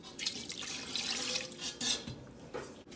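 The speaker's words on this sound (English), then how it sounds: "So now we're gonna cover this with 3 quarts of water." Water pours steadily into a soup pot of chicken, a continuous splashing gush at close range with no voices.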